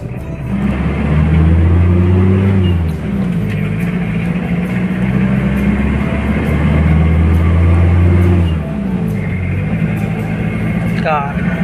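A 1997 Mitsubishi Mighty-X power-steering pickup truck drives along, its engine a steady loud drone that swells and eases with gear changes, with a brief clatter near the end.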